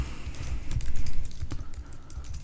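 Rapid typing on a computer keyboard while an Apache configuration file is edited, with dense irregular clicks and keystrokes close up and steady throughout, and no talking.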